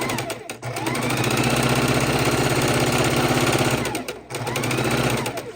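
Sewing machine stitching quilt rows together at stitch length 2, a loud, close, rapid mechanical whir running steadily for several seconds, briefly stopping, then starting again.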